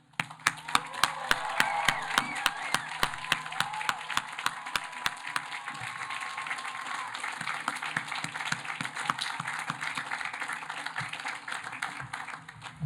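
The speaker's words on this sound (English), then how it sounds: "Let's give our graduates one last cheer." A large outdoor crowd applauds graduates at a 2022 college commencement ceremony: sustained distant clapping with scattered sharp claps nearby and faint cheering, steady for over twelve seconds.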